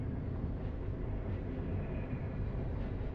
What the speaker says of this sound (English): coming into the station, is the regional train to Oslo